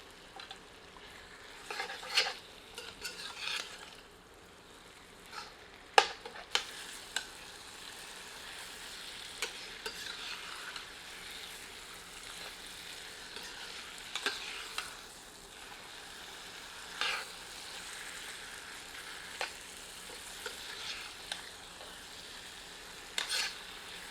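Marinated goat meat and onions frying in a pan over medium heat, a steady low sizzle broken by sharp scraping stirs and occasional clinks, fairly faint and close, with no voices.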